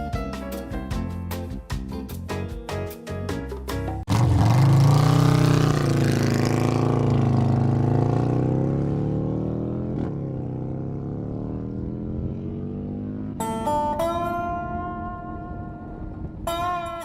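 Harley-Davidson motorcycle engine on a test run with a new throttle-body gasket, a loud steady roar that swells abruptly after a few seconds of choppy pulses, then holds and slowly eases off.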